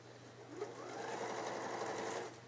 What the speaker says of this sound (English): So you sew through the elastic? No, right next to the elastic, with the elastic in there.